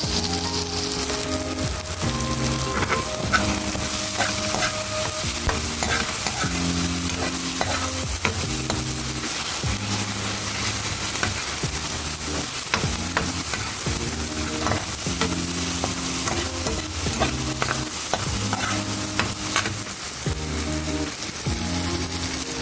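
Tomatoes sautéing in a pan for garlic buttered shrimp, a continuous close sizzle broken by repeated rhythmic stirring scrapes of a utensil against the pan.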